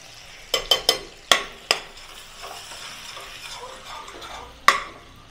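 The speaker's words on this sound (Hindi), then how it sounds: "कढ़ाई गर्म हो गई है, थोड़ी सी हमने इस गैस को हम सिम कर देते हैं। और इसमें डाल देंगे कश्मीरी मिर्च" Kashmiri chili hitting oil in a hot kadai over a low flame, with a quiet continuous sizzle and several sharp clinks of a spoon or ladle against the pan, clustered early and again near the end.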